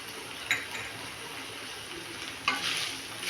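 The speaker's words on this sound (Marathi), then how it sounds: "छान असं हलवून घ्यायचं।" Grated fresh coconut is stirred in a pan, a quiet, low sizzle with two brief scrapes of the spoon against the metal.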